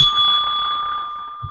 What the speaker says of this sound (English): You guys are gonna hate that bell by the time we're done next episode.